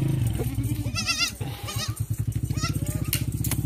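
Goats bleating on a goat farm, several loud wavering calls close by over a rapid engine putter, with someone talking briefly.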